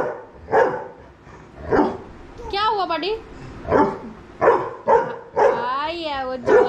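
An angry dog barking repeatedly at close range in a home, sharp barks mixed with a few whiny yips, while someone talks between and over them.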